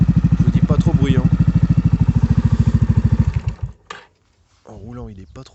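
A Yamaha X-Max 125/250 scooter fitted with a Delkevic exhaust idles close by in a steady, loud, throbbing pulse for about three seconds, then cuts off, followed by a few clunks and a short voice.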